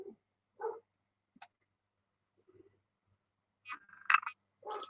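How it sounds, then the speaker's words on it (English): A dog barking a few times nearby in a quiet indoor setting, short separate bursts with a couple of louder barks near the end and near silence in between. "There's a dog somewhere nearby."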